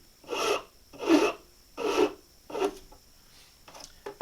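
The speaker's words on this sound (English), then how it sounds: "I won't bore you with all of that rasping" Slow, deliberate rasp strokes on a wooden pattern for duck decoy weights, four strong close passes followed by a few lighter ones, each a gritty scrape with short pauses between.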